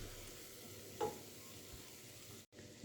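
Tomato concentrate and harissa being stirred into garlic in a cooking pot, a quiet stir with a brief scrape near the middle over low kitchen background.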